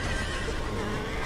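A horse whinnies loudly and close in a dramatic medieval battle scene, with faint hoof clops under a dense, steady backdrop of noise across the short moment.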